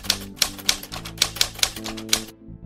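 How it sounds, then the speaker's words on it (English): A typewriter sound effect plays: a quick run of about nine sharp key clacks at an uneven typing pace, crisp and close, then it stops. "So I import the typewriter sound MP3 and drag it down to an audio track."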